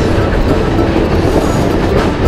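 A passenger train runs on rails near Wellsboro in Tioga County, Pennsylvania, giving a steady, loud, close rumble with rolling wheel noise that holds without a break.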